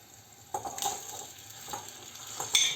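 Tomatoes sizzling in a pan for garlic meatball sauce, a quiet continuous hiss with a few soft stirring clatters.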